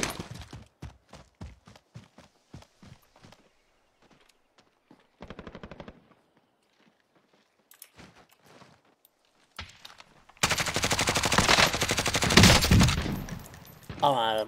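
Automatic weapon fire in Call of Duty: Warzone, with rapid bursts of shots early, scattered single shots and pauses, then a dense, loud sustained volley of gunfire near the end.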